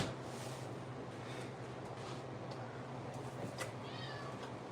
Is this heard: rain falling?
no